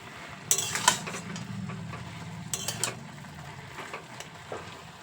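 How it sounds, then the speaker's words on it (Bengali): Hand-ground spice paste of cumin, ginger and dried chilli being stirred together in a pan for a village-style pumpkin greens dish, heard as a few scraping clinks and quiet stirring over a faint low background. "এবার সব কিছু একসাথে খুব ভালো করে মিশিয়ে নেব"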